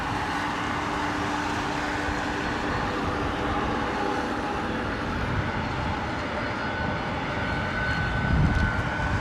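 A Virgin Atlantic Boeing 787 Dreamliner landing at London Heathrow in wet, windy weather, its engines a broad, steady roar at moderate distance with wind noise, swelling slightly louder near the end.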